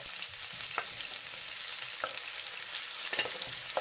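Tinned mackerel and seasonings for a Jamaican-style dish saute in a pan with a steady broadband sizzle and a few sharp clicks of stirring, close and moderately loud, no talking.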